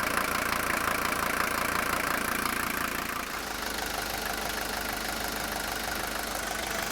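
An old Mercedes 240D diesel engine idles nearby with a steady, clattering knock that keeps a smooth, even rhythm throughout, with no talking.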